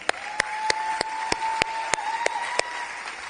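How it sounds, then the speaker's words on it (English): Audience applause at a New Zealand book awards ceremony, with about ten sharp, evenly spaced claps standing out over softer, steady clapping throughout. "Another round of applause."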